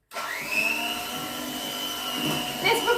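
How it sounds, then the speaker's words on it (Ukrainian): Electric mixer beating cake batter with flour for a plum cake, a steady close motor whir with a high whine that holds its pitch, growing rougher toward the end. "І збиваємо далі міксером."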